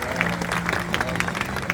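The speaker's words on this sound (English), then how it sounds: "A big round of applause for our volunteers for helping us out." A crowd at a zoo bird show claps for the volunteers in a short burst of moderately loud, crackling applause, while a voice keeps talking over the noise.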